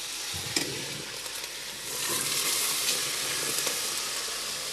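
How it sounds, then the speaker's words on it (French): Chicken in sauce being flambéed with young calvados in a pan, a loud, steady sizzle and hiss with a sharp burst near the start and a stronger surge of fizzing as the spirit catches about halfway through. "Alors là, je vais le flamber. Alors, pour le flamber, on prend donc le verre de calva."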